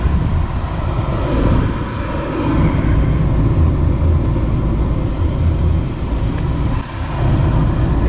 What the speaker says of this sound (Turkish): Bir 10 dakikada böyle çalıştıracağız arabayı